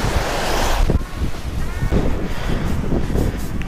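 Gusty wind on a New Jersey beach buffets the microphone in loud rumbling bursts, with surf washing in the background as rain starts.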